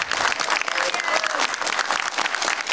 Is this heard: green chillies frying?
no